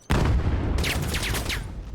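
Rapid gunfire in a Valorant esports qualifier match, a dense burst of overlapping shots starting abruptly and continuing, with a run of sharp repeated cracks in the second half.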